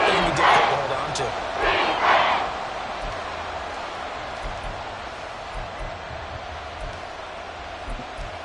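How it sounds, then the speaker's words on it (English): Stadium crowd in a Madden 24 Eagles vs Chiefs football game swells into two loud cheering bursts ahead of a big third down, then settles into a steady background roar. "the crowd getting into it as we come up on a big third down."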